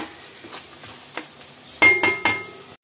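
Onions fry in a pan for a dhaba-style egg masala curry, a soft sizzle broken by a few faint stirring scrapes and then three louder metallic clinks of a spoon against the pan, with no talk.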